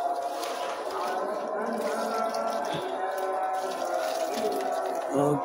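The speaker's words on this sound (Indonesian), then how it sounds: "lalu saya siram lagi nangka" Water pours steadily onto a young jackfruit seedling on a home terrace, a continuous close splashing and trickling that runs for several seconds.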